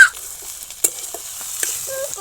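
Onions frying in hot oil in a wok while vegetable noodles are cooked, giving a soft steady sizzle broken by a few sharp stirring clinks and scrapes, alone with no talk.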